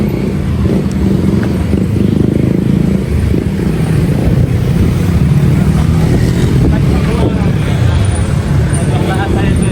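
A motorcycle on a road in Cagayan, its engine drone steady and close in loud traffic-like noise, with people talking over it.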